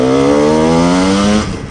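A Lambretta scooter with an MMW KillerCase 260 Simonini engine and TSR muffler runs close and loud, a steady buzzing engine drone with strong harmonics that holds, then eases slightly near the end.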